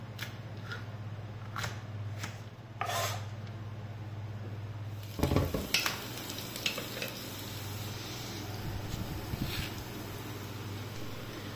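Onions frying in a pan while kabsa is being cooked, a steady low sizzle with scattered scrapes and stirring clatters, busier after the midpoint, with no talking.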